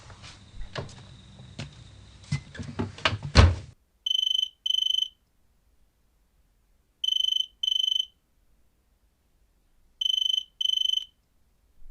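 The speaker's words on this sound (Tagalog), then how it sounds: "Telepono ni Marco yun ah. Naiwan pala niya. Teka, sino ba itong tumatawag" After a few seconds of faint rustling and clicks, a phone rings in repeated electronic double trills, three bursts separated by pauses of silence.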